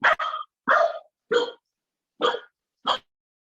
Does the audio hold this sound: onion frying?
no